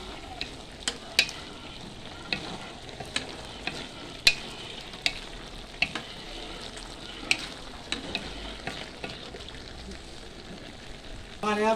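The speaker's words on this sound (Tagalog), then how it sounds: "Halo-haloin lang natin hanggang sa maluto ang kamatis at ang talong." Eggplant and tomatoes fry in a pan while a utensil stirs them, giving a steady sizzle punctuated by regular sharp scrapes and taps of the spoon against the pan, close and clear with no voices.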